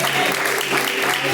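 Congregation clapping during a live Pentecostal church worship service, with a brief burst of dense, sustained applause filling the room.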